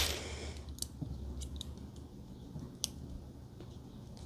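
Scissors snipping yarn while finishing a freeform crochet pillow, giving a few sharp, quiet clicks spread across a soft background hiss, with no talking.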